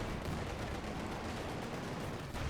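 Dense, continuous rumbling battle noise from Company of Heroes 2, with tank and gunfire blending into a steady wash of fairly quiet explosions and shots.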